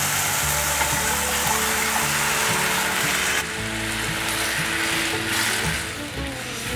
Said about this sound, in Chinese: 快速的翻炒， 番茄炒软了